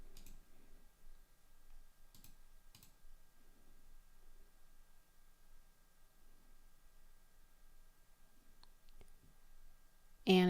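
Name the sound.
computer mouse clicking the call button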